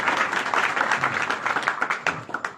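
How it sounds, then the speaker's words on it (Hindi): A crowd of women at a village gathering applauding a sung village song, steady close clapping that thins into scattered claps at the end. "माताएं बहनें बेटी ये भी इसे आशीर्वाद की तालियां दे दे"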